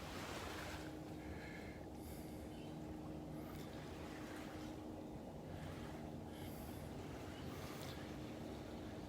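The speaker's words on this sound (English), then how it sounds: "that wind is blowing from the east today, so it's blowing straight offshore, really flattening out the Gulf there" An easterly wind blowing straight offshore at a beach in North Naples, Florida, with a constant soft hiss of air and low surf murmuring beneath it, plus a few brief higher swishes.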